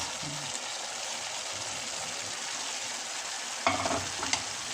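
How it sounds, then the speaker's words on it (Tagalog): Beef meatballs dropped into a pan of sizzling tomato sauce for Filipino-style red spaghetti, a steady frying hiss with stirring and a short burst of splashing and clatter near the end. "So, ilagay na natin ang ating beef meatballs."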